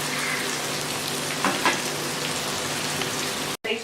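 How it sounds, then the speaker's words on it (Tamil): Onions sauté in a small iron kadai with a steady, close, rain-like sizzle and crackle, broken by a brief moment of silence near the end. "இந்த சைடு வெங்காயம் வதங்குது"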